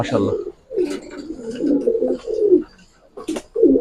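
Racing pigeons at a pigeon farm coo close by in repeated low throaty phrases, with short pauses between them.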